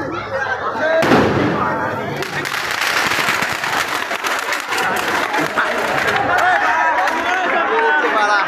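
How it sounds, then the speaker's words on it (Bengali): Fireworks crackle and pop in dense, rapid bursts at a Ganesh birthday celebration, loud and continuous with a crowd murmuring beneath the bangs. "বাজি প্রদর্শন করছে"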